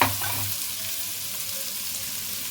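Onion paste fries in a pan with mustard seeds and cumin, giving a soft, steady, continuous sizzle with a slightly louder start.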